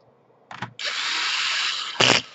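A power screwdriver drives a screw into an Asus N53 laptop during a power jack repair: a short blip, then a steady whirring buzz of about a second that ends in a louder burst, close up and alone.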